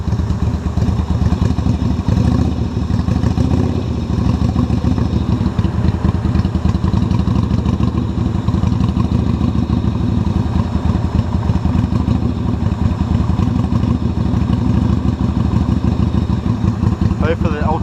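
A motorcycle engine runs steadily after a jump start. It idles in a continuous, loud, close chug with light clatter, and people talk over it.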